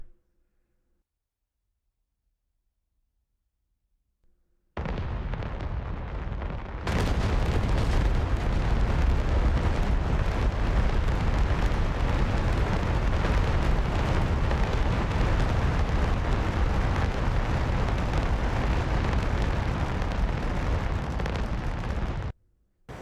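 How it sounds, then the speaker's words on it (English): JF-17 GB6-SFW cluster bomb in DCS World bursting over a target, a sustained roaring rumble of rolling explosions that swells after a silent start and holds loud before cutting off. "we'll see the destruction of this weapon. So there he goes, it's opened right above the target where we want it to go. So little cluster munitions are dropping down there."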